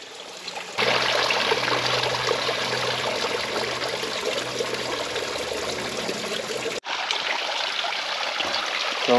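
Spring water trickles and splashes steadily close by at Shower Spring in Paria Canyon, a continuous watery rush with a brief dropout, and no one speaks over it.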